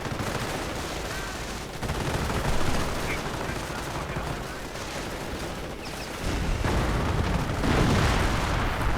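Sector artillery and gunfire rumble continuously in a WWII strategy video game, a dense wash of distant booms and rattling shots with heavier surges toward the end.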